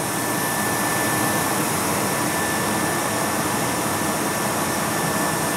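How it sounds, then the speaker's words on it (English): An old Electrolux vacuum cleaner runs with a steady, loud, unbroken whooshing roar and a faint high whine, close by, while cleaning dust from a 1985 Carrier 58GP gas heater. "I usually get a vacuum cleaner and an old Electrolux."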